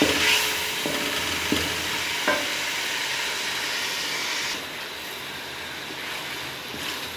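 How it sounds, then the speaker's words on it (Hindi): Tomatoes and green chilies cook in a pan for aloo palak, giving off a steady close sizzle with occasional stirring scrapes and no talking. "टमाटर और सब्ज़ मिर्चा तब तक पकाएंगे जब तक हमारे टमाटर सॉफ्ट ना हो जाए।"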